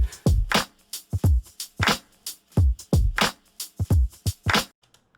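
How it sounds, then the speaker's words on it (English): A dry, unprocessed drum beat plays alone: punchy kick and snare hits in a steady groove with sharp, clean attacks and quick decays. "So with our drums completely raw, they sound like this."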